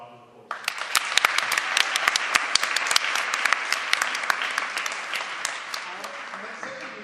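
A debate audience breaks into applause after a quiet moment, sharp individual claps rising quickly into a full, lively round that holds steady and slowly thins out.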